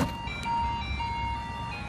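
A 2013 Audi Q7 plays a tinkling electronic chime that sounds like ice cream truck music, a clear repeating melody over a low background rumble.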